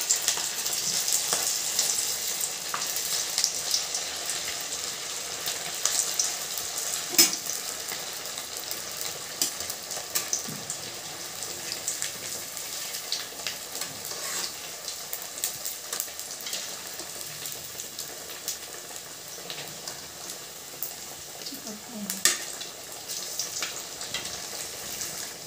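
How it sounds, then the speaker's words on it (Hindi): Sabudana vadas fry in hot oil, giving a steady, close sizzle and bubbling hiss that carries on without a break, with occasional faint clinks and stirring sounds. "तेल गरम हो चुका है, मैं बड़े इसमें छोड़ देती हूँ।"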